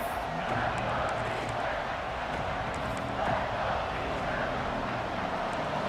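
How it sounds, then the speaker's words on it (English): A stadium crowd roars in a college football video game, Notre Dame against Stanford, a dense, steady wash of cheering noise that holds throughout at a moderate level. "This crowd knows when to bring it."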